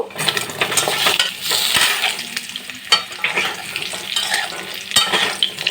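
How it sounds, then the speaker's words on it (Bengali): Cut potatoes fry in hot oil with cumin seeds and two dried chillies, a steady close sizzle with occasional stirring clinks from a utensil against the pan. "আর এখন দেব 1/2 চামচ জিরে ফোড়ন আর 2টো শুকনো লঙ্কা ফোড়ন। আর কেটে রাখা আলুগুলোও দিয়ে দেব।"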